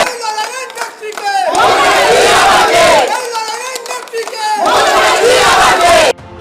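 Trinamool supporters at a party meeting in a community hall in Patuli chant slogans in loud, rhythmic bursts as a crowd, voices rising together in repeated waves with brief pauses between.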